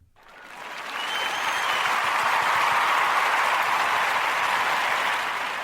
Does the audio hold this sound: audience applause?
yes